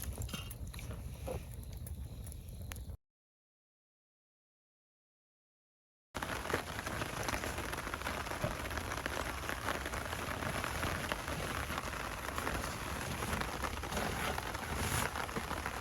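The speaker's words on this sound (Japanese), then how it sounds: "雨や ね" Rain falling steadily on a campsite in a mountain nature park, a dense, even patter on surfaces, close and continuous with a brief gap of silence near the start, no talk.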